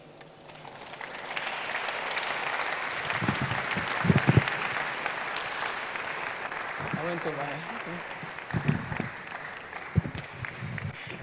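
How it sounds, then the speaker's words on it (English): An audience applauds steadily for several seconds while a voice speaks over the clapping near the end. "Please, a round of applause for her."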